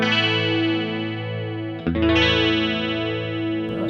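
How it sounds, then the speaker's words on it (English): A 1970s Gibson electric guitar on its bridge pickup with a clean tone rings out in sustained chords, one held chord followed by a fresh strum just before the halfway point, steady and close with no voices. "let's try some clean on the bridge pickup"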